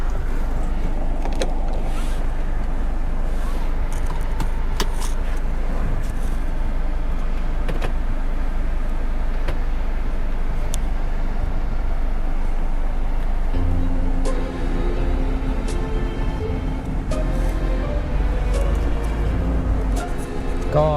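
A 2014 Chevrolet Trailblazer 2.8 LTZ diesel with 4WD on the move, heard as a steady, loud in-cabin drone of engine and road rumble that holds throughout, with a shift in tone partway through.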